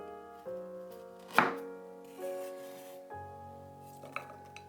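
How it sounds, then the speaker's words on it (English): Galangal is sliced thinly for Tom Kha Gai coconut chicken soup, with one sharp knife strike on a board standing out amid soft clinks and low kitchen hum, and a lighter tap near the end. "Add the galangal cut into thin slices."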